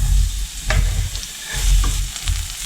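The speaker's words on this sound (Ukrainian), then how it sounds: "Сковорідку наливаю трішки олії і обсмажую цибульку." Onions sizzle and crackle in hot oil in a pan, with occasional stirring scrapes, close up and steady.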